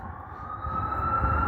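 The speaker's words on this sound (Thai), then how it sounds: "ตอนนี้ก็จะได้ยินเสียงรถหวอตลอดเวลา" A steady, loud emergency siren rings out on a New York City street, its wail holding a sustained tone under a low rumble of traffic, no voices present.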